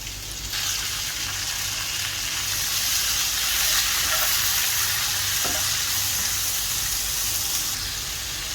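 Half a kilo of cleaned prawns sauté in a hot pan for a prawn curry, a loud, steady sizzle with stirring and scraping that swells midway, with no talking.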